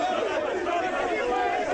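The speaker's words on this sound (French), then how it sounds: "Sous des acclamations des creuseurs artisanaux" Crowd of artisanal cobalt miners at Kasumbalesa cheering a visiting delegation, a dense, continuous roar of many voices shouting and chattering together, loud and steady throughout.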